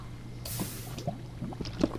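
Water sound in the video game Minecraft: a brief splashy wash of liquid with a few small drips and squishy blips, fairly quiet and heard alone.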